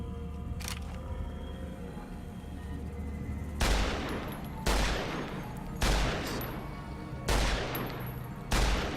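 Gunfire in Fallout: New Vegas, five loud, evenly spaced single shots roughly a second apart, each a sharp crack with a short decay, over a low steady background hum.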